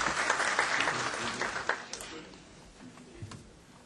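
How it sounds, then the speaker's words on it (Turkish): Applause from a conference audience of accountants at a Turkish e-invoicing seminar, a modest patter of clapping that thins and fades after about two seconds into a few scattered claps. "Alkışlara bakılana göre"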